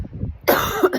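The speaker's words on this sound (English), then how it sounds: "The cough is purging, the cough is healing." A single loud, harsh cough bursts out after a brief stretch of quiet low rumble, sounding close and lasting about half a second.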